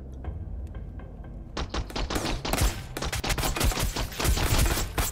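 Rapid rifle gunfire from a raid on an outpost in the survival game Sunkenland: after a quiet start with a few faint clicks, a dense burst of close, loud shots rattles continuously for several seconds, with no voices.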